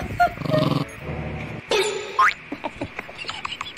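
A dog whimpers and yips in short, close bursts, with high whining cries followed by a quick run of small yelps.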